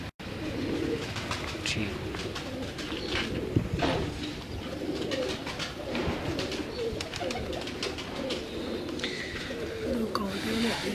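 Salaty pigeons coo at a breeder's show, low repeated cooing under a steady bustle, with people talking nearby throughout.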